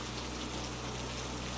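Steady rain falls as a continuous, even hiss with no breaks, a soft ambient downpour with no voices over it.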